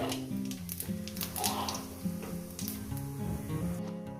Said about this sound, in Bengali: একটু জিরে ফোড়ন অল্প করে জিরে ফোড়ন দিলাম